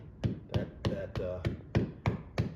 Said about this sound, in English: And now when I hit the hammer, I'm actually hitting on the top of that bubble.